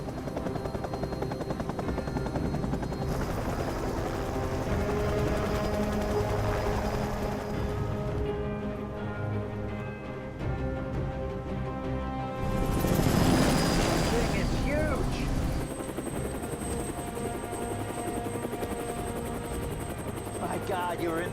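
Helicopter taking off in an action movie scene, a steady loud rotor thrum and whine building and shifting, with voices talking over it.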